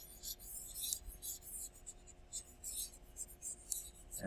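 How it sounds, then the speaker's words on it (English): A classroom whiteboard or blackboard being erased during a math lecture gives soft, repeated brushing strokes in uneven bursts over a steady low room hum, close and fairly quiet. "I'll erase this one."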